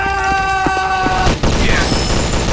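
Loud mobile shooter gunfire from Special OPS Commando Strike, a quick burst of several close shots followed by a sustained rattle of fire, with game sound effects layered in.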